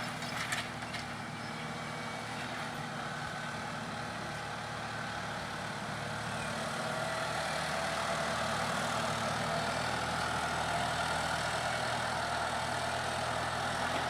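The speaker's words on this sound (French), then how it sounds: "Donc avec ce tracteur là du coup il va entre les rangs et de maïs" Tractor engine running steadily as it pulls a hoe between rows of maize in a field, a continuous low drone that grows slightly louder partway through, with no talk.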